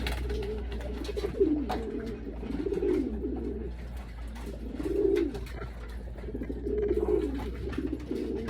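Pigeons coo in soft, repeated rolling phrases at close range, spaced every second or two over a low steady background hum, with no speech.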